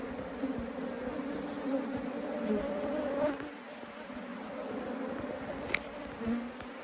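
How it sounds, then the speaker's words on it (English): Honeybees buzzing inside an opened water meter box hive, a dense continuous hum close by, steady and moderately faint, with a few brief rustling knocks. "there's bees that are gathering up underneath here"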